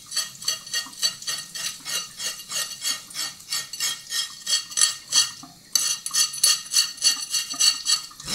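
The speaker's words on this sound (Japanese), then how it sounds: "鱗取りでは取りきれなかった細かい鱗は包丁を使って取っていきます。" Rapid, rhythmic scraping of a kitchen knife across the skin of a barred knifejaw (ishidai) to remove fine scales, bright raspy strokes repeating about twice a second, close and steady with a brief pause near the end.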